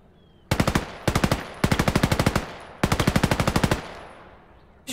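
Loud, close machine gun fire in the WWII game Gates of Hell: Ostfront rattles out in four rapid bursts separated by brief pauses, then fades into a short echoing tail.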